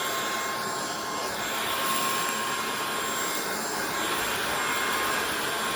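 Cordless stick vacuum cleaner running on a rug, a steady whining motor drone with a constant airy roar that barely changes, no voices.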